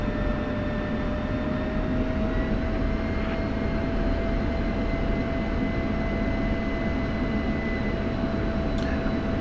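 An F-16 jet taxiing on a runway in the DCS World flight simulator: a steady, loud engine whine with a constant tonal hum, close and unbroken, without talking.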